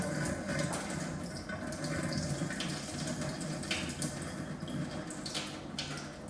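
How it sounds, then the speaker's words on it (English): Used film-developing chemical from Hasselblad 120 film processing is poured down a sink drain, making a steady, loud, continuous rush and splash of liquid for about six seconds with no talking. "Just pour it on the drain."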